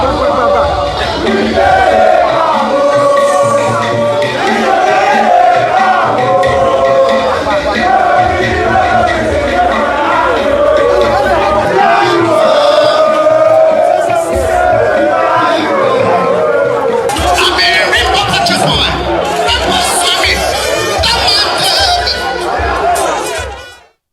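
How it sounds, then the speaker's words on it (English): A large crowd of political supporters greeting a minister in Rivers State chants and shouts in a loud, continuous mass of overlapping voices, close and energetic throughout. "He was received by a crowd of supporters."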